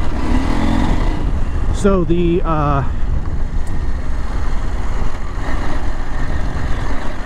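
A Husqvarna Norden 901 motorcycle rides off-road in off-road mode, its engine a steady drone heavily buried under wind buffeting on the microphone, with a rider speaking briefly.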